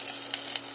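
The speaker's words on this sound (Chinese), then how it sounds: "加入少许的油，好，再炒出香味" Minced ginger sizzles and crackles in a little hot oil in a wok, a dense close-up frying hiss with a couple of sharper spatters.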